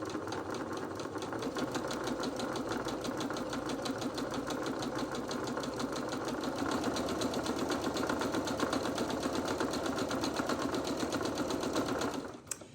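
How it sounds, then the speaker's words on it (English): A domestic sewing machine runs a long basting stitch on T-shirt fabric, giving a steady, fast mechanical whirring clatter at close range with no talking, then it stops abruptly at the end. "we're going to do what's called a basting stitch all the way around this little strip"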